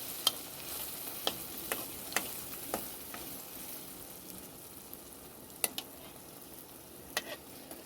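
Jackfruit malpua batter frying in hot oil in a pan, a soft, continuous bubbling sizzle with scattered small crackles and pops, fairly faint and with no voices.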